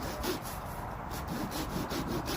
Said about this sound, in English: I'm going to chop this guy in half so he can fit in the barrel a bit better